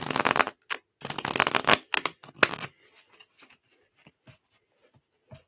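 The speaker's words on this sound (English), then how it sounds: "One more shuffle here." Tarot cards are shuffled by hand in quick riffling bursts, close and crisp, followed by a few softer card taps and slides, with no talking.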